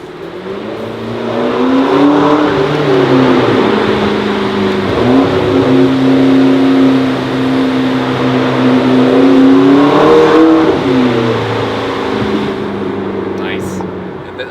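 A McLaren 12C Spider (MP4-12C) engine pulls hard inside a dark tunnel, its loud, echoing note climbing in pitch, dipping with a gear change near the middle, then rising again, with a brief voice near the start.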